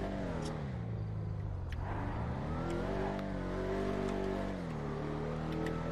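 A Dodge Charger Hellcat's engine in GTA 5 climbs a steep slope under hard acceleration, a loud continuous roar whose pitch dips and then rises again as it revs, with no talk over it.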